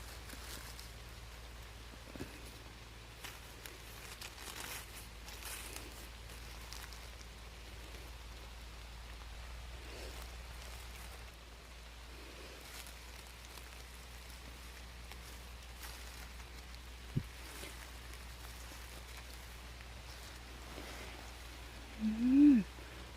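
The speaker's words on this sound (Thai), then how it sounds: "ได้ยินเสียงฝนไหมคะ ฝนตกจ้า" Rain falling steadily in a forest, a soft, even patter that stays faint throughout, with a short sharp knock midway and a brief louder rustle at the very end.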